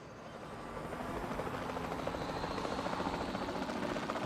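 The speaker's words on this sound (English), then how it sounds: "let's take the helicopter up in the air" A helicopter flies in the video game Jurassic World Evolution 2, its rotor giving a steady, loud, fluttering whir that swells in over the first second and then holds constant, with no talking.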